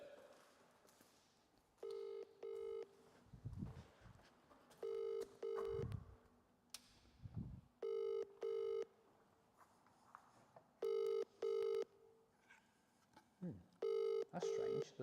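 Repeated electronic telephone ring tones in short paired bursts during a call, fairly loud and regular, with low rumbling handling noise and brief faint voices between rings.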